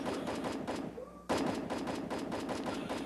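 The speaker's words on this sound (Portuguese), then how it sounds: "tá tomando tiro lá" Rapid bursts of gunfire in the video game Free Fire crack out continuously, a brief lull near the middle before the shooting resumes loud and dense.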